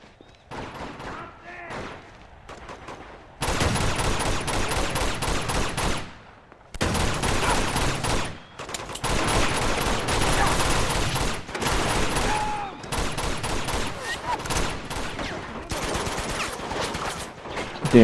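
Sustained bursts of video game gunfire in Uncharted multiplayer, rapid fusillades of shots in long loud stretches separated by brief lulls, with quieter game sounds and faint voices between the bursts.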